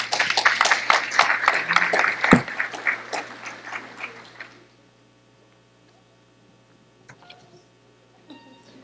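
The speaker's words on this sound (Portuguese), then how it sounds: "uma salva de palmas para os palestrantes" Audience applause at a Portuguese-language medical congress session, a dense wash of many hands clapping for about four and a half seconds before fading out, leaving a quiet room with a few faint taps.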